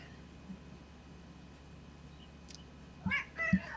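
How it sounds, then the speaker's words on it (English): A cat lets out two short, faint meows in quick succession near the end, after a quiet stretch of low room noise. "Hello, kitty."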